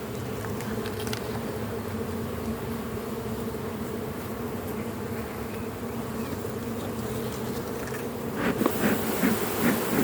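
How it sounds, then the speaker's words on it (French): Honeybees swarming around an open beehive late in the day as foragers return, a dense continuous close buzz of many wings holding steady, with a few louder passes near the end. "Toutes les butineuses vont commencer à rentrer."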